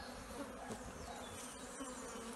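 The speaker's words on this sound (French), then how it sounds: "là, tu vois, il y a quelques abeilles" Honeybees droning around an open Warré top-bar hive during a harvest in Martinique, a continuous faint buzzing swarm close by, with no talk over it.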